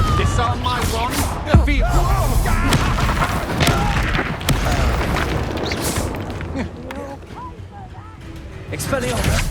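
Booming blast-spell explosions from the Confringo curse in Hogwarts Legacy burst repeatedly through a wand duel, heavy low thumps layered under constant shouting of spell names and combat voices.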